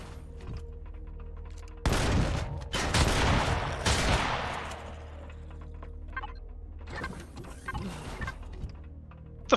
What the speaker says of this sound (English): It sounded like a sentry gun somewhere